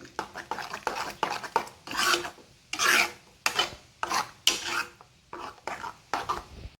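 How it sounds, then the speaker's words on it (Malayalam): Curd pachadi is stirred in a pan over low heat, making repeated close scraping and rubbing strokes of a spoon against the pan in an uneven rhythm. "സിമ്മിലാക്കിയിട്ട് നല്ലോണം ഇളക്കി എല്ലാം കൂടി ഒന്ന് തൈരും എല്ലാം കൂടി നല്ലോണം മിക്സാക്കി കൊടുക്കുക"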